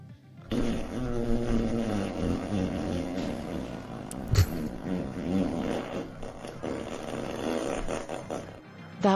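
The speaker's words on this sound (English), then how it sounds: "Alexa, can you fart, please?" An Alexa smart speaker plays a long fart sound, a drawn-out buzzing rasp that fills most of the stretch with wavering pitch, loud and close.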